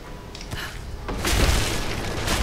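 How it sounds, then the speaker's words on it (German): Objects smashed together in the video game Rise of the Tomb Raider, heard as a heavy boom with a sharp crack near the middle of the clip and a loud rumbling crash that follows and holds to the end. "dann können wir das hier aneinander knallen lassen"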